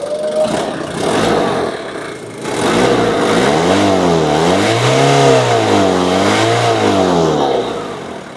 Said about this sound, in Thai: มาฟังเสียงเครื่องครับ เสียงเร่งเครื่องด้วยกัน